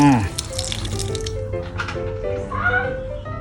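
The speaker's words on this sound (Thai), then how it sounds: "ลองเปิดน้ำดูนะฮะ" Water running from a newly fitted plumbing tap, a steady splashing flow under someone talking, with a few squeaky handling noises.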